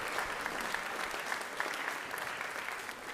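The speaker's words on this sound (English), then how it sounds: "Can everybody please give him a big round of applause?" Steady applause from a crowd at a middle school spring concert, dense clapping that fills the whole stretch at an even level with no pauses.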